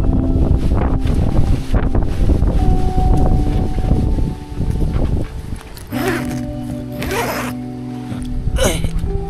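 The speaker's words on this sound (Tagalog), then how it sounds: "Grabe lakas ng hangin." Strong mountain wind buffets the microphone in a loud, steady roar, with voices talking over it and a few gusty rushes, at night near a tent.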